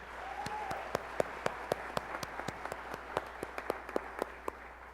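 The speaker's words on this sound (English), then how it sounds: "Please join me in one more round of applause for our Momentum Gold partners." An audience at an awards celebration applauds for partners, sparse, distinct claps ringing out steadily over a soft room murmur, moderately quiet and somewhat distant.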